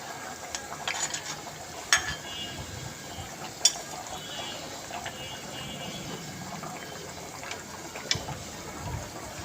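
Fried onion and cumin paste stirred into a fish curry of rohu and green plantain, a soft steady sizzle with scraping spoon strokes and a few sharp clinks against the pan, moderately quiet and without talk.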